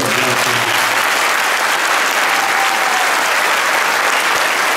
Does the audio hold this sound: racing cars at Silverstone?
no